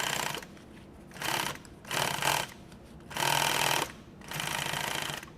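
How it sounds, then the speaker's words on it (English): A sewing machine stitches edge tape onto nylon tactical gear in four separate bursts of steady mechanical whirring, each lasting under a second, with short pauses between them. The sound is close and clear, and no one speaks. "let me show you what this looks like when I'm really sewing for real"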